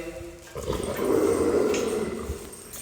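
A dog at a kennel scuffles and growls, giving a close, loud, rumbling growl that swells in the middle and then tapers off, with some scrabbling noise and no talking.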